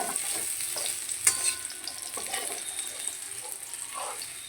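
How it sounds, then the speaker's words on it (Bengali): Reddish-fried pumpkin pieces are lifted out of a pan of hot oil, with a soft continuous sizzle under a few light scraping and clinking touches of the utensil. "তো কুমড়োগুলো ভাজা হয়ে গেছে, কুমড়োগুলো এরকম লাল লাল করে ভেজে নিতে হবে। কুমড়োগুলো এবার তুলে নিচ্ছি।"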